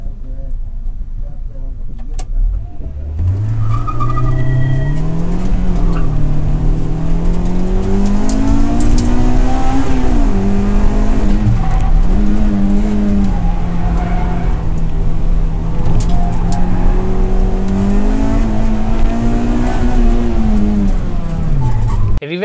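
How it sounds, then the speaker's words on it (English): Honda cars road racing on a Japanese circuit track: a loud, close engine screams through rising and falling revs as it accelerates and shifts, holding a continuous high-pitched wail. "It's more of the archive of some of the craziest Japanese road racing you can find on circuit tracks"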